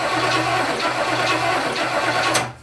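An abandoned 1967 Chevrolet Impala engine runs just after starting, a rough, uneven idle with a slight loping beat, close and steady before cutting off abruptly at the end.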